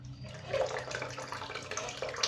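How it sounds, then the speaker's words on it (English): Water running out of an overflowing toilet tank, a continuous splashing and trickling flow with a steady low hum beneath, close by and moderately loud. "You can see that the water is coming out right now"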